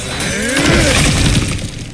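Kratos smashing through a cracked obstacle in God of War Ragnarok, a loud close crash of shattering, splintering debris that bursts and crumbles over about two seconds.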